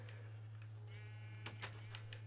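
A white sheep in a video game bleats faintly, a short wavering bleat over a steady low hum, followed by a few soft clicks.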